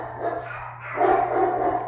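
Small Yorkshire terrier dogs barking indoors in a home, a run of repeated yaps that grows louder in the second half, with no talking.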